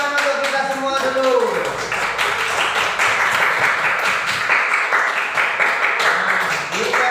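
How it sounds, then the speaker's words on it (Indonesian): A classroom of students claps hands together, a busy run of rapid overlapping claps lasting several seconds, close and lively, while voices of a teacher and pupils carry along beneath and between the clapping. "Tepuk tangan untuk kita semua dulu."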